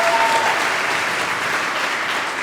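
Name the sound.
conference audience applause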